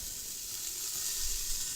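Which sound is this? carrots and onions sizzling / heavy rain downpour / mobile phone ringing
carrots and onions sizzling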